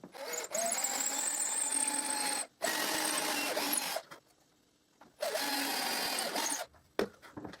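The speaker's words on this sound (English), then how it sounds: "and I drill the dowel hole." A drill boring a dowel hole through a doweling jig into a hanger held in a workbench vise, with two long loud whirring bursts separated by brief pauses and a short final spurt.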